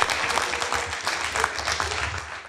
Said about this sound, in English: I think we should give a great round of applause for Dr.